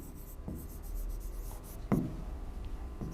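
Pen strokes on paper or a board come as a few short scratchy marks against a quiet room background, with no one talking.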